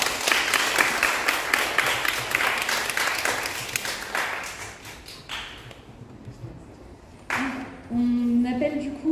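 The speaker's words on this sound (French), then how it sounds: "Mais on peut quand même les applaudir." Audience applause at an indoor event presentation, a loud burst of many hands clapping that thins and fades out, followed by a voice speaking over a microphone near the end.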